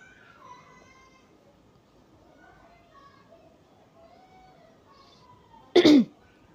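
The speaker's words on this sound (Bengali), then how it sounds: "আজকে আমার একটু কাশি আসতেছে" A single short, loud cough bursts out near the end after a stretch of quiet background murmur, close and abrupt.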